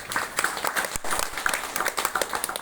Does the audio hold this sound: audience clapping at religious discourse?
yes